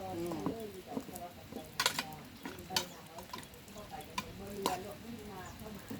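Snails are stir-fried with curry paste, giving a soft sizzle with repeated scraping stirs in a pan, close by, while a person talks over it.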